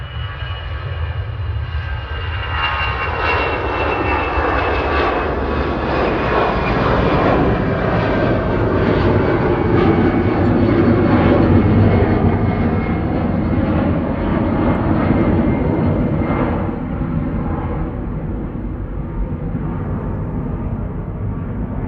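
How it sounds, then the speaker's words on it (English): A Lufthansa Airbus A319 in Star Alliance livery takes off from Manchester Airport bound for Frankfurt, its loud jet roar building and sweeping through a Doppler-like shift before easing slightly, heard alone without voices. "Lufthansa on the roll, heading off to Frankfurt, DAI BI, flight 949 A319 in the Star Alliance livery"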